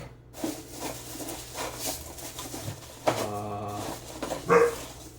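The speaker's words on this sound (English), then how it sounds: "Quiet dog." A dog barks a few times amid background clatter, with a couple of sharper yelps standing out near the end.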